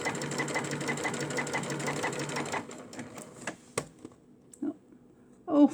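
A sewing machine runs steadily for under three seconds, stitching a hem on doll clothing, then stops, leaving a few faint clicks and knocks before a brief louder thump at the end.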